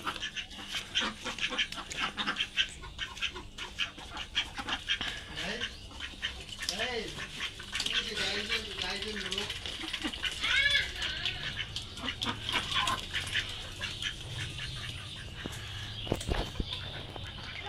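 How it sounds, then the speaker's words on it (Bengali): Domestic ducks quack in scattered bursts as the flock comes in to feed, mixed with other farmyard sounds and voices talking nearby. "এই দেখেন হাঁসগুলান সবগুলান আমাদের চলে আসছে এখানে।"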